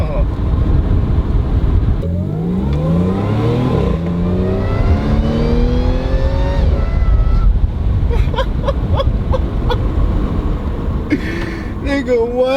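An Audi S4 fitted with a CAP Performance intake revs hard, its engine climbing in repeated rising sweeps, loud and close, then settling into a rough idle while voices talk in the background.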